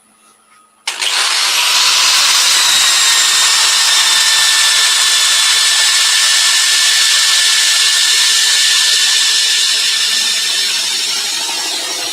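Corded power tool spins up abruptly after a moment of quiet and runs loud and steady for over ten seconds while shaping a heavily textured wooden bowl rim.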